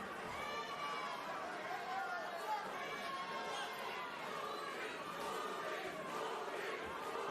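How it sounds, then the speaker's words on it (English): A boxing crowd at the Caraballo versus Junas Sultan fight chants for Caraballo, a rhythmic rise and fall of many voices echoing through the arena beneath a constant murmur. "The crowd getting a chant of Purin going for Caraballo."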